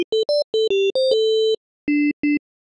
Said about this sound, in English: the higher and higher you pitch your modulator, you're going to get into more metallic, more bell-like sounds like this.